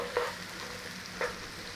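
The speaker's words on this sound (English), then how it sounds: "Start to saute, nice and soft." Onions and garlic softening in a pan for a mushroom and herb pâté, a quiet, even sizzle with two short clinks of a utensil against the pan, no one talking.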